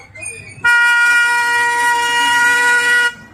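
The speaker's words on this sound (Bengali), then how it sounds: "হর্ন দিয়েছে ট্রেন" A toy train's horn gives one long steady toot lasting about two and a half seconds, loud and close, after a moment of quieter background sound.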